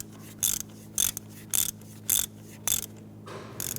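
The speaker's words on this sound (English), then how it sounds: "you can go ahead and run it down the rest of the way with your ratchet" Ratchet clicks come in six short bursts, close and crisp, as a spark plug is run down on a 1992-1996 Toyota Camry 2.2L four-cylinder engine.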